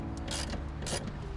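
A socket ratchet with a deep socket loosening 10mm bolts on an old GM car during a window regulator replacement, giving close, quick mechanical clicking in a short run.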